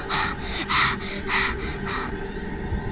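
Rhythmic panting-like breaths, five or six airy bursts in a steady pulse, fairly close and moderately loud over a faint low background hum, with no talking.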